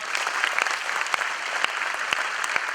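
An audience at an engineering quiz zonal final in Mumbai breaks into applause, a continuous even patter of many hands clapping with a few sharper claps standing out, no talking over it.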